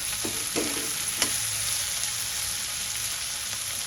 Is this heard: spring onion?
yes